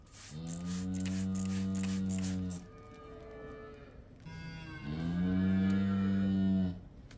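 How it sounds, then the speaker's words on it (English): An anxious cow held in a chute bellows two long, loud moos with a brief gap between them, close by, with faint background noise. "Yes, that is this cow making that noise in the background."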